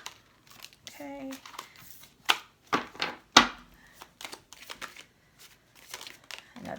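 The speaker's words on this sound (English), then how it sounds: "the boring part when you have to watch someone shuffle" Tarot cards are shuffled by hand in a few sharp riffling bursts, close and moderately loud, separated by quieter handling sounds.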